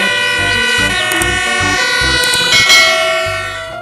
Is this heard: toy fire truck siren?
yes